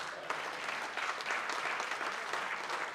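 An audience gives a big round of applause after a speech by a retired Indian Army major general, a continuous, moderately loud clatter of many hands that stays steady throughout.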